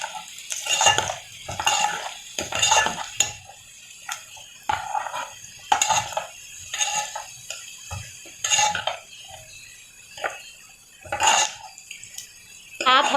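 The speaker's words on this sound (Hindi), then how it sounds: "अब हमारी प्याज गोल्डन ब्राउन होने तक चमचा चलाते रहेंगे।" A spoon stirs onions in a pan as they cook toward golden brown: repeated clinks and scrapes of metal against the pan come in irregular bursts, close and fairly loud, with faint sizzling between them.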